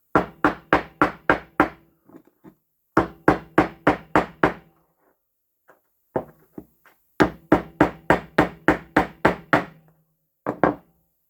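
A bearing is hammered into the wheel motor of a Husqvarna Automower robotic mower: quick bursts of sharp, close metallic taps come in three rapid runs, with a single strike at the end and short pauses between runs.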